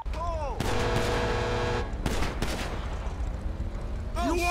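Dense gunfire in a GTA roleplay game, a sustained automatic burst followed by further shots, loud and close, with shouting voices breaking in between.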